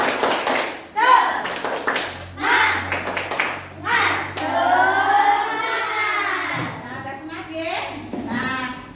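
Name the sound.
group doing the rhythmic 'tepuk semangat' clapping chant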